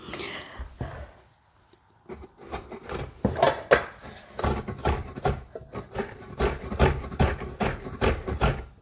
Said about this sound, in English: Do like this, and every time you move it, then nicely grate from every side.